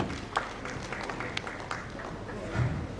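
Scattered applause from an assembly audience after a speech, a thin patter of claps with a few sharper hits, modest in volume and fairly distant.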